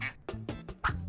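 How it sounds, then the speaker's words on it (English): A duck quacks four times in quick succession, close and clear, with short pauses between the calls. "it's a duck."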